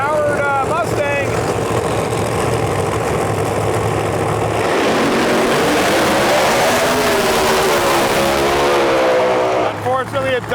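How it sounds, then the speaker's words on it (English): The PGS Racing powered Mustang pro mod drag car runs loud and near at a World Series of Pro Mod qualifying session, its engine rumbling and then roaring up in a rising surge, with an announcer talking throughout. "Brandon Pez driving the PGS Racing powered Mustang"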